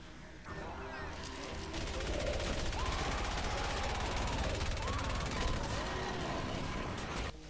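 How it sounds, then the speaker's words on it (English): The Swan gun in Fortnite Save the World fires nonstop as a dense, steady stream of rapid shots that lasts almost the whole stretch, with game effects mixed in and no speech over it. "It is only good if you're just like firing it nonstop."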